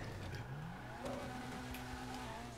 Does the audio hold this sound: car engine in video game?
yes